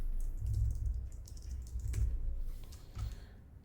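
Quick bursts of key clicks from a computer keyboard as a single short word is typed in a game map editor. The taps are close and crisp, in two or three rapid clusters.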